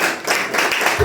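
A church congregation claps in a brief, dense burst of many hands, steady and fairly loud, lasting only about a second.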